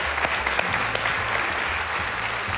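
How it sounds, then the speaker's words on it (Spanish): Applause from a gathered audience: steady, dense clapping at moderate loudness, sustained without pause for a few seconds, with faint voices beneath it. "Le vamos a dar un aplauso"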